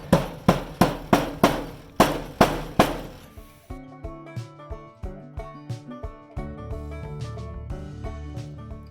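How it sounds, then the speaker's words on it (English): A rubber mallet strikes wood being driven into the metal tube of a 5 x 8 utility trailer, giving about a dozen sharp, close, evenly spaced knocks before lighter ringing clanks follow. "I'm just using a rubber mallet to slide it in."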